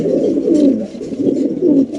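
Pigeons on a pigeon farm, including a Spanish pigeon, coo close and loud, with repeated low rolling coos in an uneven rhythm and no talking.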